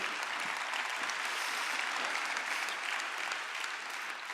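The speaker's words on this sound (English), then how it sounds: "keep clapping, this is amazing" A keynote audience at a developer conference claps continuously, a dense, even wash of many hands heard from a distance, steady and moderately quiet for the whole stretch with no voices on top.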